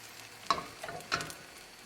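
A veggie omelette sizzling as it cooks in a pan over medium gas, a steady close frying hiss with two brief louder scrapes or stirs, and no talking.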